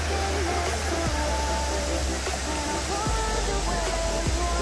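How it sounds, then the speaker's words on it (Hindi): Fast-flowing river water rushing near Ban Jhakri Waterfalls in Gangtok, a loud, constant roar that fills the whole clip, with faint tonal sounds drifting over it. "नदी के पानी यहाँ तक आ रही"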